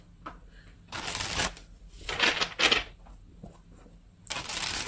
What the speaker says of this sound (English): So let's get a few tarot cards and see what this is about.